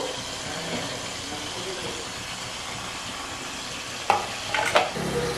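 Onions and tomato frying in a pan for palak chicken give a steady, close sizzle with stirring, under a person talking, and a few sharper scrapes of a spoon near the end.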